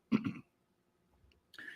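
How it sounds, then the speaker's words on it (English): A man coughs and clears his throat in two quick bursts, followed by a brief pause and a softer rasping throat sound. "I don't know what I had that's making me cough like this"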